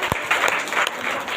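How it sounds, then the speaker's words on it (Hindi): Lively applause from a church gathering, a dense burst of many hands clapping at once, loud and close, filling the whole moment without pause. "सेवन परमेश्वर को जोरदार तालियों के साथ धन्यवाद देती है।"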